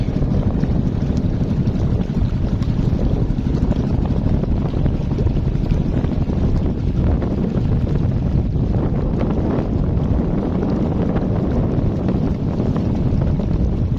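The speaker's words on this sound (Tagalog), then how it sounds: "Medyo malakas pong hangin dito." Strong wind roars continuously across the microphone, a heavy, steady rumble with no voices.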